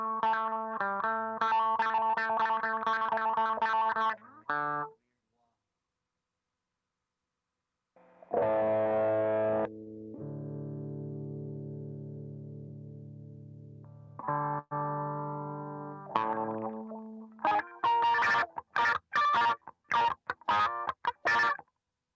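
Wah-filtered synth and instrument parts on an AKAI MPC beat during a live beatmaking session, with sweeping effected tones, a gap of silence, then sustained chords and choppy stabs, heard alone with no talk.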